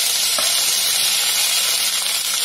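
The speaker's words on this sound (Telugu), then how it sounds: "ఇవి కూడా కొంచెం ఫ్రై కానిస్తానండి" Onions and tomatoes fry in oil with a loud, close, continuous sizzle that holds an even crackling hiss throughout, broken by one brief tap.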